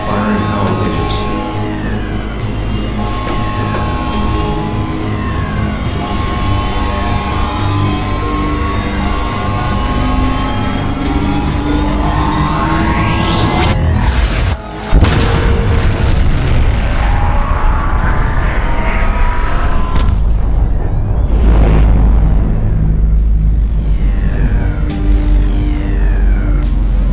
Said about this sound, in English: Reactor ignition in process. Firing power lasers.